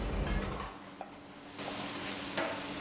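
Onions, crushed garlic and chili frying together in oil in a pan, a steady close sizzle with a few light stirring scrapes and clinks against the pan.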